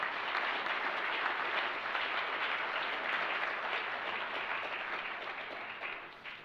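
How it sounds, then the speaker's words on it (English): An audience at a policy panel on maritime sieges breaks into sustained, dense applause, a steady wash of many hands clapping that holds evenly for several seconds before tapering off at the end. "I think it would be fair to applaud them for supporting this dialogue"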